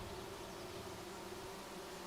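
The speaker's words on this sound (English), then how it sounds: "Oh, I hear bees." Bees buzzing in the forest survival video game Among Trees, a faint, steady, continuous hum with no talk over it.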